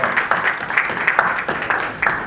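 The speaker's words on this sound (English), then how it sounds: "Please have a round of applause." An audience at a coaching event in a hall gives a short round of applause, scattered claps repeating steadily, moderately loud, no voices over it.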